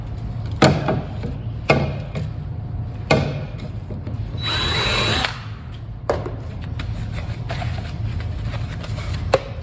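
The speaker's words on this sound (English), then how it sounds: "I just drilled my hole through the top. I used about a 1/2-inch drill bit" A power drill bores a hole through the top of a pipe with a half-inch bit, in short whirring bursts and one longer run, close and fairly loud with no talking.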